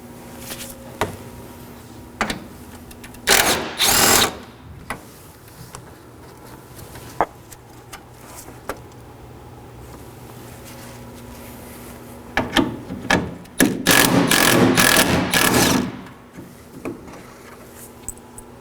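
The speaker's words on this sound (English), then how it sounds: "Now I'm going to remove two 10mm bolts." Two 10mm bolts come out of the radiator support on a 2013-2019 Nissan Sentra, heard as two loud bursts of rapid metallic ratcheting and scraping, separated by quieter handling clicks over a steady low hum.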